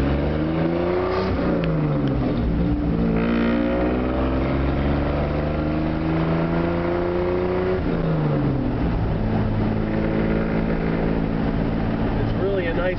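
A 1952 Chevy pickup with a restored straight-six carrying speed equipment drives along, its engine droning steadily and rising and falling in pitch through the gears, loud and close throughout, with a voice talking over it.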